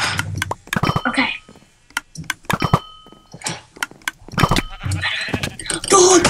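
Sheep bleat in Minecraft amid a busy mix of short game thunks and clicks, with voices talking over much of it and the bleats short and mid-loud.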